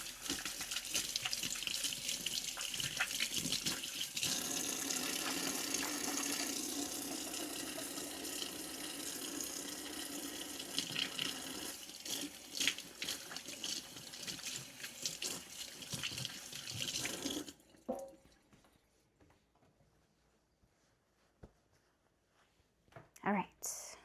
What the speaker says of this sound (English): I'll wash my hands again real quick